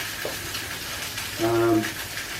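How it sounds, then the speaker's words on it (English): Steady crackling sizzle of a skin-on fish fillet frying in a hot pan, with a brief low hum rising midway. "You can hear that sizzle, that's burning in effect the outside of the skin."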